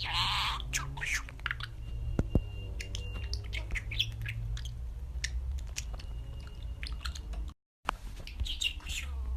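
A pet budgerigar chirps and squawks in quick, scattered bursts close to the microphone, with soft beak-clicking and chewing-like sounds over a low hum, and one brief dropout near the end.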